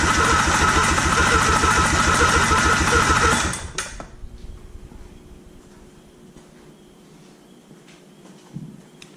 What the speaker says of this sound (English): Now we're going to go ahead with our warm engine compression test.